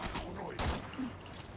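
Rapid gunfire from shooting in the sci-fi video game Warframe, a dense burst of shots with heavy thumps continuing for about a second and a half, loud and busy with no talking.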